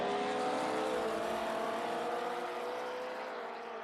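Porsche race cars from a Classic GT club race at Silverstone in Assetto Corsa, engines droning steadily at high revs as two cars run close together, the roar fading slightly toward the end.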